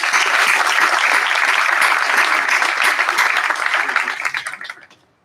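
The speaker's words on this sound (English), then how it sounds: "Join me in a round of applause for excellent work done." A graduation ceremony crowd bursts into loud, sustained applause, dense and close, that holds steady for several seconds before tapering off into quiet.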